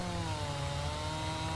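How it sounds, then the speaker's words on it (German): Chainsaw cutting wood in Farming Simulator 19, a steady, loud buzzing drone with a constant pitch for a brief moment, no pauses. "Du wolltest, dass ich dir einen jetzt klein säge."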